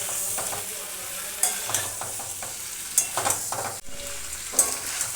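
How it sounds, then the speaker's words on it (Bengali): Cauliflower and spice paste sizzle in a pan on lowered gas, while a utensil stirs and scrapes with intermittent clacks against the pan. "এই মশলাটা ভালো করে আবার একটু 3-4 মিনিট একটু ভালো করে কষিয়ে নেব।"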